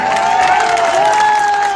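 A crowd at an election rally in Bihar claps and cheers, a steady mass of applause under sustained tonal shouts or whistles from the gathering.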